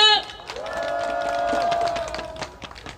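A crowd at an outdoor rally in front of Jeju City Hall applauds to welcome the group Overfloor, with scattered clapping and cheering under a sustained tonal sound.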